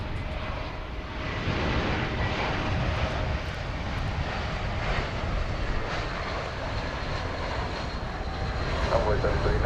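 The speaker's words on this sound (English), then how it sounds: "Arriving now from Sacramento in California is this Airbus A321." American Airlines Airbus A321 arriving at Dallas Fort Worth airport, a steady broad engine roar from a distance, continuous for several seconds with some talk over it.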